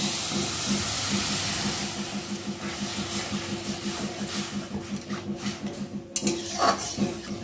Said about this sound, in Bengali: এখন আমি পরিমাণ মতো জল দিয়ে সুজিটাকে ভালো করে ফুটিয়ে নেব